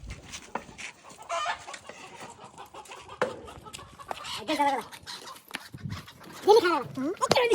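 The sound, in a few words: hen clucking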